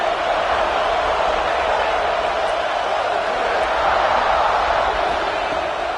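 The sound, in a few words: stadium crowd noise in video game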